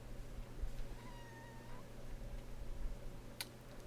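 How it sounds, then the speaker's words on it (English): A pet cat lets out a single faint meow from some distance, set against a steady low hum and background noise. "that's my other cat, Feral."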